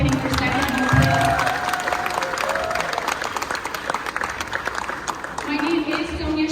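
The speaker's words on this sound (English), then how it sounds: "Can we give them a round of applause for opening for second home, please?" An audience applauds at a California community election event, the clapping sustained and fairly loud throughout, with voices and some cheering mixed into the crowd noise.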